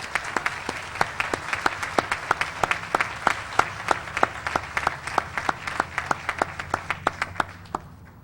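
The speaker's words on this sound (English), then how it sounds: "How about a round of applause for those that work at the clinic?" A small crowd at a 2002 groundbreaking ceremony for a health center claps for the clinic workers, crisp individual claps in a quick, fairly even rhythm that thins out and stops near the end.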